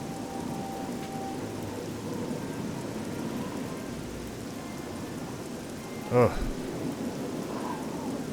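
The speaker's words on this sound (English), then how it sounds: "I can think of a lot of other places I'd like to be right now than out here in the rain." Steady rain pours in a video game with a low rumble of thunder beneath, and a single sharper crack near the end, while a voice briefly groans.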